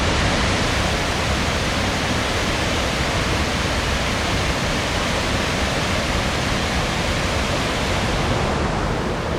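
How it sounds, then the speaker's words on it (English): Steady, loud rush of falling water, a dense continuous roar of Ganoga Falls, a double waterfall at Ricketts Glen, Pennsylvania, filling the whole clip without pause. "all you're gonna hear is the water flowing"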